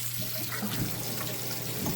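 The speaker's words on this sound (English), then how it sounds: "just letting the water go out" Steady hiss of water running from a house tap while the plumbing is drained for winter, continuous and close, with no talking over it.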